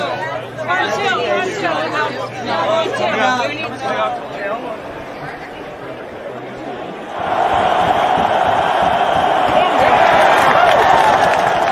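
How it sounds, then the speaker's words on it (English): Loud crowd cheering at an Iowa Hawkeyes sports event, a dense roar of voices swelling in the second half after a stretch of busy crowd chatter and talk. "He's cheering really loud."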